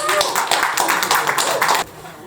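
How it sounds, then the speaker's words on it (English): Spectators clap for a poet stepping up at a poetry gathering, a brisk burst of close hand claps that stops abruptly near the end, with some voices mixed in. "Give her a round of applause."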